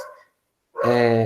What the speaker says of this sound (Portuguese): Tem um cachorro latindo aqui na rua